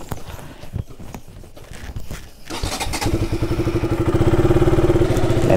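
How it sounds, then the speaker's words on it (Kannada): A motorcycle engine starts and settles into a steady, rapid idle while warming up, loud and close after a few seconds of shuffling handling noise. "ಫಸ್ಟು ಗಾಡಿ ವಾರ್ಮ್ ಅಪ್ ಮಾಡೋಣ ಗುರು"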